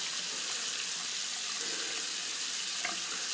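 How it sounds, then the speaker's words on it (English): A tap runs steadily for face rinsing, giving a constant close splashing rush of water with a faint extra splash near the end. "I'll just rinse the face off here."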